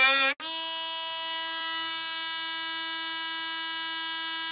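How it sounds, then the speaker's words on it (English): A small Dremel rotary tool used for carving runs close and steady, with a brief shift in pitch right at the start, then an even, high motor whine continuing alone. "The Dremel."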